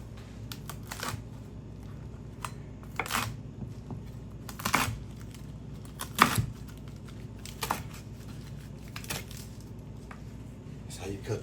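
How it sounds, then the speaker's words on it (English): A knife chops through tightly rolled collard greens on a board with sharp, irregular thuds and crisp cuts spaced about a second apart, close and fairly loud over a quiet room. "That's how you cut your greens."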